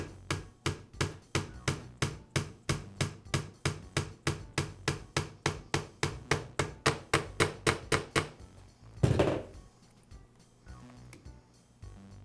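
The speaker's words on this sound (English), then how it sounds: "I'll place the jigsaw on top of one of my vise jaws to support it, and then I'll tap the pin into place." Hammer tapping a pin into a Makita jigsaw resting on a vise jaw, about thirty sharp, evenly paced metallic taps close up, followed by a louder clatter and then quiet.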